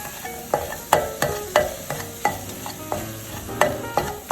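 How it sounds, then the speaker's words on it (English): Onions and crushed peppers are cooked in a pan over medium-high heat, with a utensil knocking and scraping against the pan in a steady rhythm over a soft, continuous sizzle. "So we're gonna cook this down until the onions is translucent in a medium-high heat."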